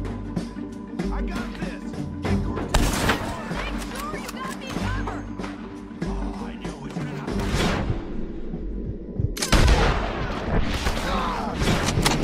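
Gunfire in the video game Red Dead Redemption 2, loud dense volleys of shots and booms crackling almost continuously, with a sharp burst of heavy blasts near the end and voices talking in between.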